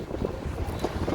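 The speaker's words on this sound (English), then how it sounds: "so you hear the wind in the video as well." Gusty wind buffeting the microphone while walking outdoors in downtown Chicago toward Soldier Field, a steady low rumbling roar with fluctuating bursts and faint street sounds, close and continuous with no speech.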